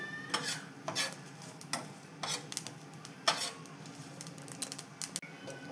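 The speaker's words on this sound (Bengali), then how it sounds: "এগুলোকে শুকনো খোলায় হালকা নাড়াচাড়া করে হালকা করে ভেজে নেব।" Dry red chillies and bay leaf are stirred in a dry pan as they roast, giving repeated scraping and rattling strokes of a spatula against the metal with a faint, soft sizzle underneath, close and fairly quiet.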